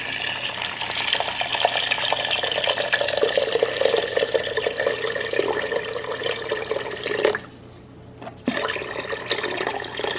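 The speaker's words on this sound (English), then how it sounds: "I'm going to add about 6 cups of water now." Steady rushing stream of water filling a cooking pot, continuous and close, with a brief quiet gap near the end before the flow resumes.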